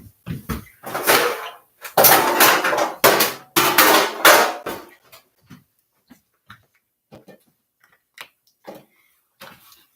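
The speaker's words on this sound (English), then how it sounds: "I'm going to put these on a pan so I can move them" Handmade heart-shaped soaps are set onto a pan one after another, a run of close, sharp clacks and knocks that thins out into sparse, lighter taps.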